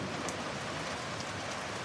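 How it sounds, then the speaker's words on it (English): Steady, even rainfall from a gentle storm hisses evenly throughout at a soft level, with no distinct thunderclap standing out and no voices. "Rain and thunderstorm sounds for relaxation."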